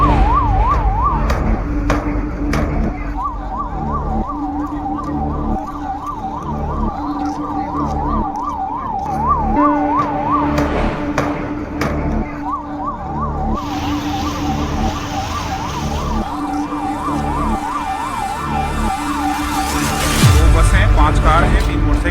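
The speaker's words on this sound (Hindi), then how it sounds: "एम्बुलेंसेज आप देख रहे हैं कि आसपास की सारी एम्बुलेंसेज पहुंच रही हैं।" Wailing ambulance sirens rise and fall continuously, with more than one overlapping, amid traffic noise and a vehicle passing close by near the end.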